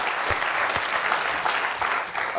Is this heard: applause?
yes